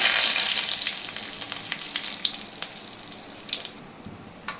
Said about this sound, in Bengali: এই তেলে আমি এলাচ, দারচিনি, 2টো শুকনো লঙ্কা, একটু তেজপাতা দিয়ে দিলাম